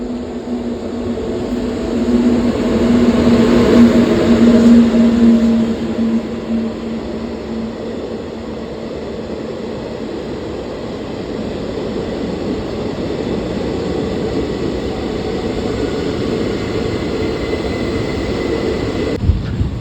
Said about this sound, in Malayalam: മലബാർ എക്സ്പ്രസ് ഇതാ കടന്നു വരുന്നു